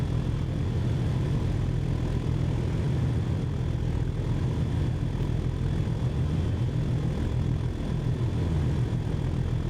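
Two Class 37 diesel locomotives double-heading a cement train at full throttle in Train Sim World 5, a loud continuous low engine roar and drone that holds steady throughout.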